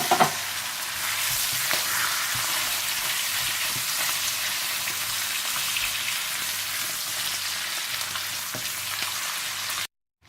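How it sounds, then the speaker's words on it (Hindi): Chicken sizzles steadily in hot oil for paella, a dense continuous frying hiss with small pops, close and loud, then cutting off abruptly near the end. "इसी तेल में चिकन डाल दें और चिकन को अच्छी तरह से फ्राई कर लें"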